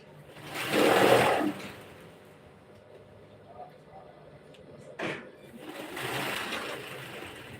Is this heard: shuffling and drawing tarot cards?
no